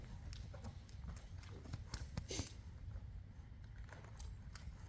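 A horse loping in an arena, with quiet, steady hoofbeats in a rolling three-beat rhythm over a low rumbling background and no speech.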